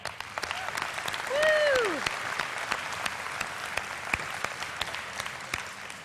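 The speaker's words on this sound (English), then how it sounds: "How about another round of applause for the Broad Ripple High School Band?" A conference audience gives the Broad Ripple High School Band a round of applause, sustained moderate clapping spreading through the hall, with a single voice whooping over it early on.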